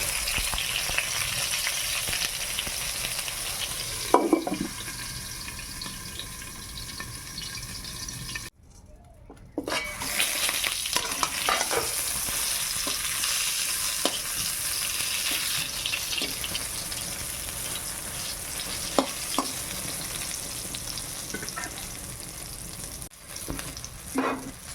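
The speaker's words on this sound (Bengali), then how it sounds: "আগে বেগুনটা ভেজে নেব" Eggplant sizzles as it fries in hot oil in a pan, a steady close crackle that runs throughout with brief clinks and stirring noises, broken by one short gap.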